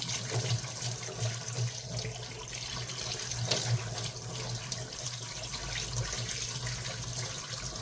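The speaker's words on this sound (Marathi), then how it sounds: "नळाखाली पहिलं स्वच्छ धुवून घेऊया आपण" A tap runs steadily into a sink, a constant splashing hiss of water with small shifts as something is rinsed beneath it.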